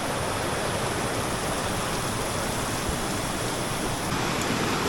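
Clear river flowing at Sumber Pitu in Mojokerto, a steady broadband rush of water that stays loud and even throughout with no voices.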